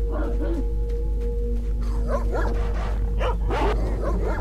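Dogs in the game S.T.A.L.K.E.R.: Shadow of Chernobyl bark and yip a few times at a moderate distance over a constant low electronic hum, with short whimpering cries between the barks.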